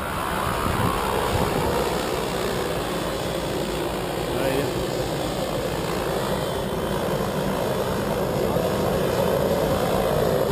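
A propeller airplane climbing with skydivers aboard above Mont Blanc near Chamonix, its engine a constant loud roar filling the cabin for the whole stretch.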